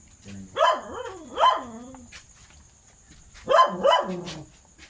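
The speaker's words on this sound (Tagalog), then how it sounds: "May mga aso rito." Dogs bark near an abandoned, century-old ancestral house, in two pairs of loud, sharp barks separated by a quiet pause, with a faint steady high tone in the background.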